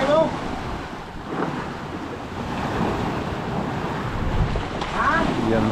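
Big ocean waves rolling and breaking in a steady broadband wash, with wind rumbling across the microphone throughout; a voice speaks briefly over the surf.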